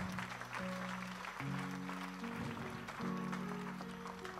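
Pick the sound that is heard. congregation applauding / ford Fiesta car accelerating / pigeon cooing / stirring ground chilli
congregation applauding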